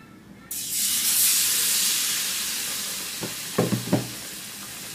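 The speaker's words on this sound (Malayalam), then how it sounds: "എന്നിട്ട് പെട്ടെന്ന് തന്നെ നമുക്ക് ഈ ഓയിലിലേക്ക് ഇട്ട് കൊടുക്കുക" A pappadam snack coated in maida batter drops into hot oil and bursts into a loud, steady sizzle that fades slowly, with a few clinks and scrapes near the end.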